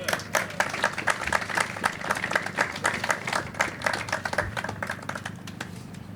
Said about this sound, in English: let's give another round of applause for our Councilwoman Thrashintuk